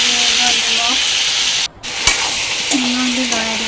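Spices and vegetables, with turmeric, ginger-garlic paste and salt, sizzle loudly in a hot pan while being stirred, with a steady frying hiss, a brief pause and a few scraping knocks.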